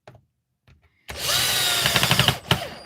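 A power drill driving screws starts abruptly after a quiet lead-in, a loud close whirring run with a few rapid clicks near the end before it cuts off.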